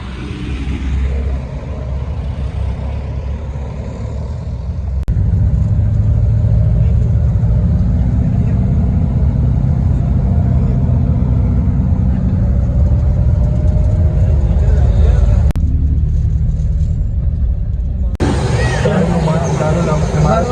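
A private car used as a taxi drives along with a steady close engine drone and road rumble from inside the cabin, a couple of brief knocks breaking the continuous noise.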